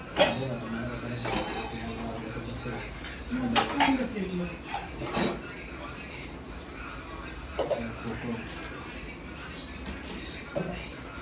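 Dishes, pots and pans clatter and clink in a home kitchen during cleaning, in several sharp bursts of metal-on-metal knocks, fairly close and moderately loud, with people talking in the background.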